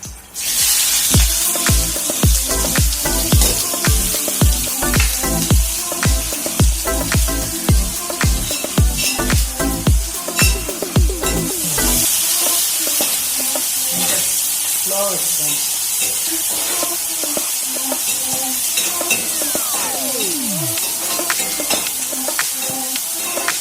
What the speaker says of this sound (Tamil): இந்த வெங்காயம் வரமிளகாய் போட்டுக்குவோம்